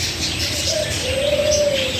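Pigeons or doves coo and small birds chirp steadily in an outdoor heritage park, with a soft ambient background and no voices.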